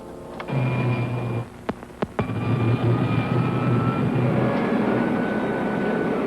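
Rocket ship firing its pilot jet in an old science-fiction serial: a steady loud roaring rush with a low hum, broken by a couple of sharp cracks early on, then continuing unbroken to the end.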